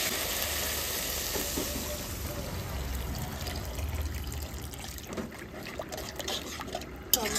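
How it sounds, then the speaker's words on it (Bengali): Water poured into a hot pan of frying papaya curry with fish and green chillies gives a loud, continuous hiss and bubbling sizzle that slowly settles, close by, with a brief clatter near the end. "এবার আমি জল দিয়ে দেবো।"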